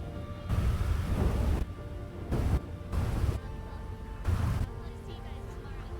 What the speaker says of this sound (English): I don't mind the rain sometimes.